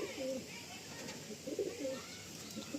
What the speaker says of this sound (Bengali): দেখুন এদিকেও একটা আড্ডা সেকশানে কিছু পায়রা রয়েছে